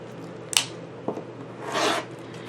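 Scissors trim quilt fabric along a drawn line, giving two short crisp snips followed by a longer soft rasping cut, close and quiet.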